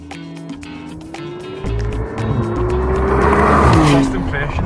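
A brand new 2023 McLaren sports car pulls away and accelerates, its engine note rising steadily in pitch with a deep, loud, continuous drone from close by, swelling and settling near the end.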